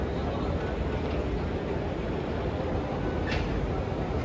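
A train at a station in Doha, Qatar, gives off a steady, moderate rumble with a faint hiss and one brief high squeal, with no speech over it.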